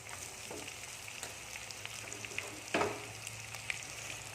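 Snake gourd seeds and chillies sautéing in oil with chana dal, a soft, low crackling fry with scattered pops and one louder burst of sizzle partway through.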